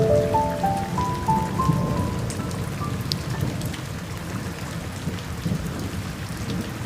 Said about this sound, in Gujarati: ફૂલ વરસાદ જેવું થઈ ગયું છે અત્યારે.